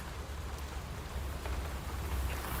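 Steady rain falling with a soft continuous hiss and low rumble, no voices.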